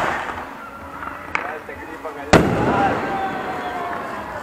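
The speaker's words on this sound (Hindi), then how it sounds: "आतिशबाजी हो रही है यहाँ पे" Fireworks burst during a kite-flying day on Rakshabandhan, with sharp cracks and pops at a distance over a steady outdoor hubbub, including one louder close bang.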